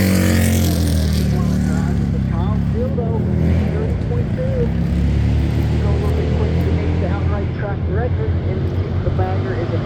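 Indian bagger motorcycles racing at MotoAmerica King of the Baggers, loud engine roar with rising and falling revs as bikes pass, under continuous commentator talk.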